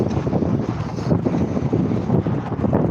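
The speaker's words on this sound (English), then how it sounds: "once the wind hits like that" Wind buffeting the microphone while riding a vintage bicycle on an open road, a loud, steady, rough roar with gusty fluctuations throughout and no talk.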